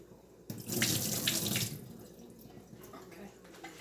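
Tap water runs into a kitchen sink while potatoes are rinsed, a close, splashing gush that surges for about a second, then drops to a quieter trickle and faint drips.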